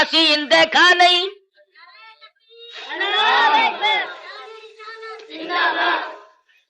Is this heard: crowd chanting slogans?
yes